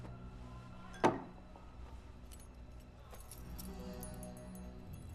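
A single short jangle of keys close by, a quick metallic clink that fades into a quiet, low room hum, with faint later rustles.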